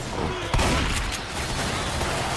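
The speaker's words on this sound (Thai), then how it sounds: "ค่อยๆยิงดิ มึงเป็นลูกปืนลูกสองจริงไหมเนี่ยยิงไม่โดนอีก" Dense, continuous bursts of gunfire from the Left 4 Dead 2 zombie shooter, with a sharper crack near the start over a constant loud din of shots.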